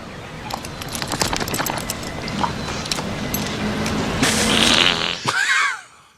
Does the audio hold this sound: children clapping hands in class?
no